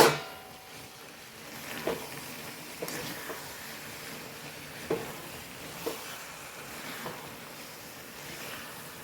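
Grapes go into a hot pan for a pickle and are stirred, making a steady soft sizzle with a few louder spoon clacks against the pan, all fairly close.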